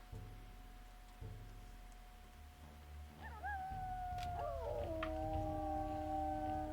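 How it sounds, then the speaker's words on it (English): Wolves howling in the video game WolfQuest: two or three long, wavering howls rise and overlap over a low rumble. They are moderately close and carry to the end. "We're all gonna howl at one another."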